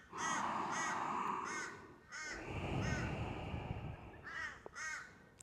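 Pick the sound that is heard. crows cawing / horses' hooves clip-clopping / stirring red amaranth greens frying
crows cawing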